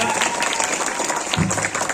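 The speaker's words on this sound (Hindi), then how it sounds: "एक बार आप सब लोग जोर से तालियां बजाइए आज के हमारे मुख्य अतिथि का" A school audience at a Republic Day celebration claps for the chief guest, with a brief burst of applause that is loud and crowded, with voices mixed in.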